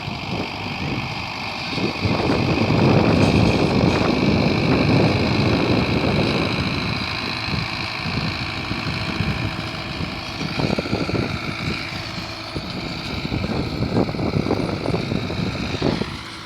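A tractor engine drones steadily nearby with clanking and rattling of harrows dragged across a wheat field, swelling louder early and then continuing at a lower roar.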